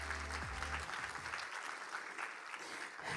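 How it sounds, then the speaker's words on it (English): Steady applause from an audience fills the whole moment, a dense even patter of many hands clapping at moderate volume. "Could we please give her a round of applause?"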